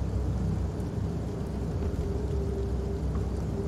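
Steady rain with a low thunder rumble in the Fears to Fathom horror game, Carson House episode, a dense continuous wash of rainfall filling the whole stretch without any talk.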